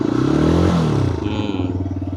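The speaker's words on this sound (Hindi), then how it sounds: "थ्रॉटल देता हूँ।" A 125cc motorcycle engine is revved once with a rising then falling throttle burst, and the loud engine settles back into a close, steady idle.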